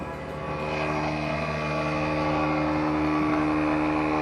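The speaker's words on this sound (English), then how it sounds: "My little compressor is a little weak." A small, weak air compressor running during spray painting, a steady droning motor hum with a low throbbing, constant and fairly close, no voices.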